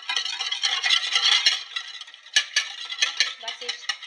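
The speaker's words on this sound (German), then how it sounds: "Im nächsten Schritt habe ich jetzt das Ei aufgeschlagen und verquirl das jetzt noch so ein bisschen." A cracked egg whisked in a bowl for blueberry-lemon muffin batter, quick rhythmic clinking of the whisk against the bowl in bursts with a brief pause, close and moderately quiet, no voices.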